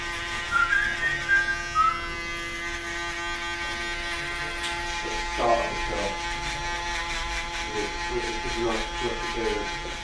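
Electric shaver and trimmer buzzing steadily while a barber works on a client's long hair and beard, with people talking over the hum throughout.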